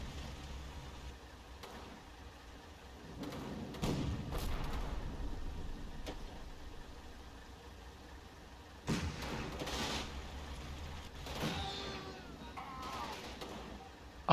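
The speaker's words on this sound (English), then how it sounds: "A half-track is hit by a rifle grenade." Combat Mission wartime game battle: a half-track takes a rifle grenade hit, heard as sharp distant bangs and thuds spaced among gunfire, with a louder burst near the middle and quieter rumbling between.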